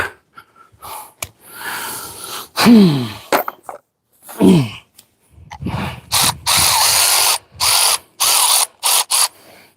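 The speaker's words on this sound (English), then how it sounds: "Grab a power ratchet. It should get these." A power ratchet loosens bolts on the engine of a 1968 Ford Thunderbird during removal. Short bursts of whirring come in quick succession, loud and close, broken by pauses, mechanical clicks and audible breathing.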